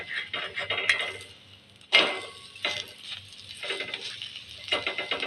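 Thalipeeth turned over in a pan with a spatula, a few close scraping knocks on the pan with a faint sizzle underneath.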